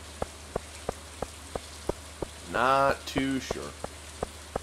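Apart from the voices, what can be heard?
rain falling in Stardew Valley video game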